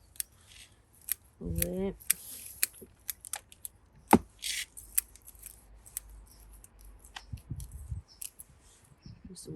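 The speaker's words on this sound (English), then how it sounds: "just going to cut some of these branches" Pruning shears snip branches on an 80-year-old yamadori privet bonsai, giving several crisp, close cutting clicks spread irregularly, with rustling between them and a brief spoken word.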